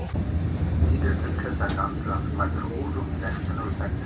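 A train rumbles along the rails with a low steady roar and faint squeaks, while people talk nearby.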